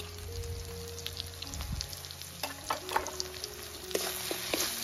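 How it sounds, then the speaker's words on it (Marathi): Onion and tomato frying in a pan for a Maharashtrian garlic-fenugreek dish, a quiet, steady sizzle with scattered pops and crackles, plus a few soft clanks of utensils. "तिकडे आपला कांदा फ्राय होतोय"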